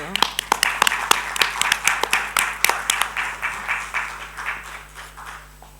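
Audience applauds at a tribute ceremony launching a book reissue, steady dense clapping at first that thins and fades toward the end, heard alone without talk.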